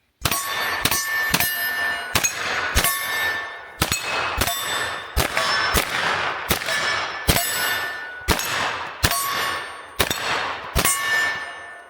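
Smith & Wesson FPC 10mm carbine fired at a shooting range: about a dozen sharp, evenly spaced shots, each followed by a bright metallic ring that decays before the next shot.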